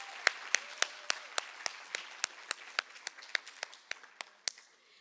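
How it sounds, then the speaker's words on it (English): Applause at an evening poetry event in Africa, heard as a steady crowd patter with a regular series of loud, sharp claps that come through clearly in a rhythmic pulse. "Another warm round of applause for Lulega."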